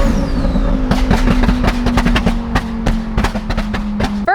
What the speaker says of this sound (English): introduce you to my 1300 horsepower Lamborghini Huracan